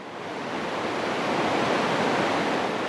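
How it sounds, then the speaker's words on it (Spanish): The 30-metre Elephant Falls near Dalat, Vietnam, a dense, steady roar of falling water that swells slightly at the start and then holds loud and unbroken, with no voices. "La Cascada del Elefante de 30 metros de profundidad es una de las cascadas más visitadas de Dalat."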